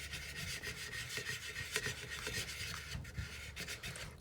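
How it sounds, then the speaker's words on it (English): A brush stroking varnish across an upcycled plate, producing continuous scratchy rubbing with quick back-and-forth strokes, close and fairly loud, with no talking. "We're going to varnish this on here."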